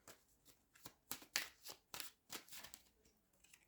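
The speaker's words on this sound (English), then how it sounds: "I'm just going to shuffle these one more time" A deck of tarot cards is shuffled by hand in a quiet room, making a series of soft, papery riffles and slaps in uneven bursts, faint and close, with no other sound.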